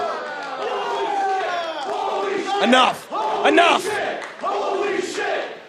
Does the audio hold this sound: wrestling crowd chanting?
yes